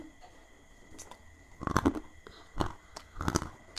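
Crunchy macadamia nuts being bitten and chewed up close, with several loud crisp crunching bursts in irregular rhythm between quieter pauses.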